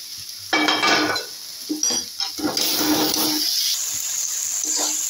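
Fried onions go into a cooked onion, ginger and garlic spice paste in a pan for a chickpea ghugni and are stirred in, giving close sizzling and scraping bursts that settle into a steady hiss.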